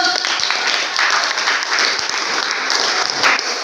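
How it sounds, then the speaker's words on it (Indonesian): A classroom group gives steady applause after a presentation, dense even clapping from many hands lasting several seconds, fairly loud and close. "Berikan aplaus dulu"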